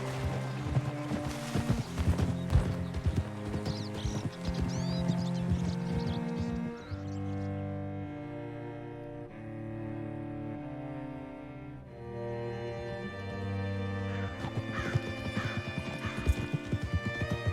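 Horse hooves clip-clop at a steady walking pace over continuous background music in Red Dead Redemption 2, close and clear throughout.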